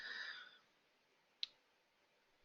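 Mouse clicks on a menu in Excel, two sharp isolated clicks in quiet, one midway and one at the end, after a brief faint rustle at the start.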